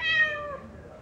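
A cat meows once, long and drawn out, close and clear, sliding downward in pitch as it fades, heard inside a vehicle during a long road trip.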